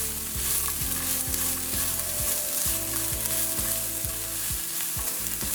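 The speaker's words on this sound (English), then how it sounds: "I'm going to allow this to saute a little to bring out the oils in the peppers" Pimento peppers sauté in hot oil in a pan for a vegan Hong Kong pepper tofu, giving a loud, steady sizzle and crackle with repeated stirring scrapes, and no talk.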